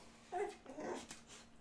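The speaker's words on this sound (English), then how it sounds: "I have got a dog moaning in the background" A hound dog moans in the background, a quiet, drawn-out whimpering whine rising and falling over about a second, faint and somewhat distant.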